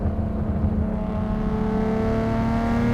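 A Nissan Skyline R33 GTR tuned to 440 wheel horsepower revs its engine, a loud, steady, close growl with a rising pitch throughout, heard alone.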